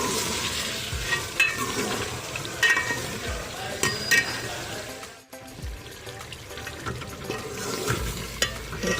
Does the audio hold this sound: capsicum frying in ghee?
yes